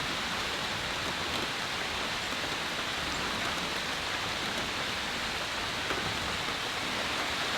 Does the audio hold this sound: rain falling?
yes